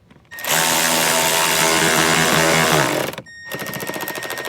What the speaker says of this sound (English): because I'm using an electric tool, you wanna just feel it